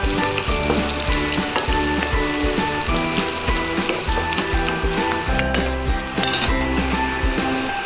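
Beans and onions fry in a pan with a loud, continuous sizzle and crackle. A rhythmic, tonal layer that sounds like background music runs underneath.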